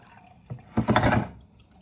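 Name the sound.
water draining from canned white sweet corn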